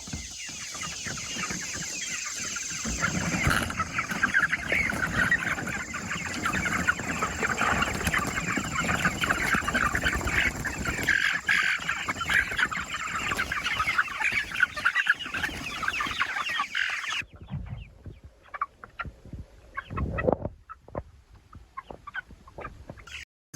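Chickens clucking and squawking steadily while feeding on pig guts, a busy flock close by, the noise cutting off abruptly near the end leaving only faint scattered sounds.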